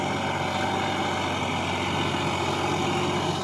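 A Massey 240 tractor engine labours hard, pulling a heavy trolley of sand out of river water, with a loud, steady, dense rumble continuing alone throughout.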